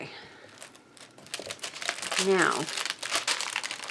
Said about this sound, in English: this is waxed paper that I have behind here